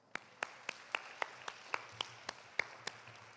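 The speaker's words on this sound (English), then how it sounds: "give yourselves a round of applause" Sparse, distinct hand claps ring out at a steady pace at an undergraduate honors ceremony, a few people clapping rather than a full crowd, fairly faint in a quiet room.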